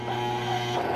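A new sewing machine hums steadily as it starts stitching, a continuous motor drone with fine rapid mechanical buzz, heard up close for about a second.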